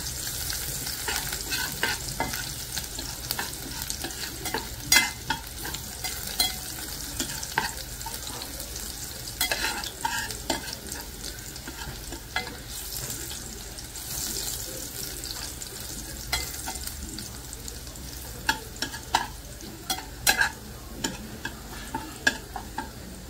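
Garlic browning in a pan for mutton paya soup sizzles steadily while a spoon stirs and scrapes with frequent sharp clicks throughout.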